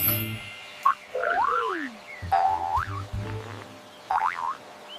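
A frog calls several times in short, rising and falling twangy croaks, close and fairly loud against a quiet background.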